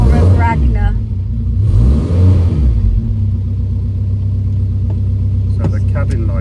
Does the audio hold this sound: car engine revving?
yes